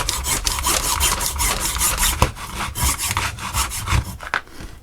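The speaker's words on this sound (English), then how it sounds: "Hacksaw connector. You can see I'm just cutting it on the bench here." A hacksaw cuts through a motorcycle immobiliser's electrical connector on a workbench, giving steady back-and-forth rasping strokes in a quick rhythm. They sound close and loud and run continuously, with nobody talking.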